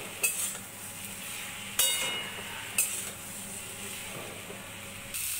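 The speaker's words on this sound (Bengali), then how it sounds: "একটু ভেজে নেব মশলার সাথে।" Spices fry with salt and turmeric in a pan alongside aubergine and potato, giving a faint steady sizzle punctuated by several sharp clinks of a utensil against the pan.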